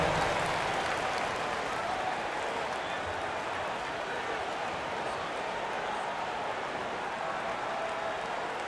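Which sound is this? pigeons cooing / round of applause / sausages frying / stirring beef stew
round of applause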